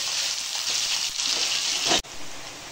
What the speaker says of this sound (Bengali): এই পেঁয়াজগুলো আমি এখন এর মধ্যে দিয়ে দেব, দিয়ে একটু লাল লাল করে ভাজতে দেবো।